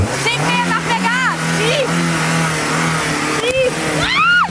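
A car engine idles and is revved while someone pushes the stuck car out. The steady motor hum runs underneath as people talk and shout loudly over it throughout.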